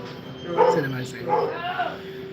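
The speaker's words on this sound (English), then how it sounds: "Yeah, there's dogs." Dogs give a couple of short barks and yips at moderate distance over a steady background hum, with faint speech mixed in.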